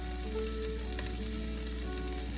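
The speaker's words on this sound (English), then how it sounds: "at this point, I'm also gonna add a little bit of sesame oil" Korean fried rice sizzling in a hot pan as a little sesame oil goes in, a steady close frying hiss with faint stirring, no voices.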